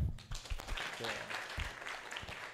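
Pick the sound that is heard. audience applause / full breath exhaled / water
audience applause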